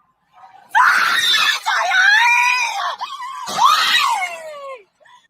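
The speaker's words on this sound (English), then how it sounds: "they're screaming to like the baby's gonna fall" Several people scream loudly and continuously in terror as a baby falls, the shrill rising and falling cries holding for about four seconds with only a brief dip before fading out.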